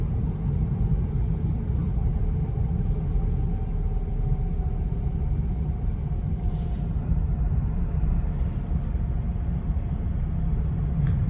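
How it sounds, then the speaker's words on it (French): Steady low diesel engine rumble heard from inside a moving 2021 Opel Crossland, constant and droning throughout with faint road noise and no talking. "C'est une voiture de 2021 qu'on entend comme ça le moteur diesel,"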